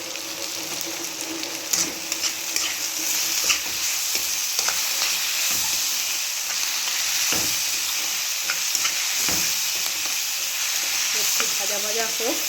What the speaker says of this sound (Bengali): চিলি চিকেনের পেঁয়াজটা একটুখানি ভেজে নিচ্ছি